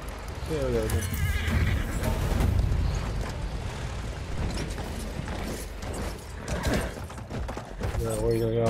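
A horse neighs in Battlefield 1 amid dense game noise of rumbling, mechanical clatter and effects, with a player talking over the mix.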